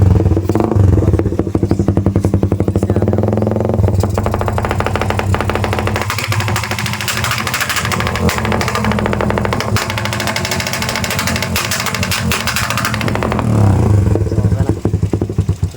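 A carbureted Raider 150 motorcycle idles and revs loudly up close, spitting a continuous stream of rapid, crackling backfire pops that rattle like gunfire for the whole stretch.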